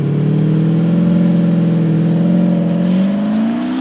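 Diesel Bentley Bentayga SUV accelerating hard on a wet road in sport mode with traction off, a loud, close, steady engine drone that climbs gradually in pitch through the run.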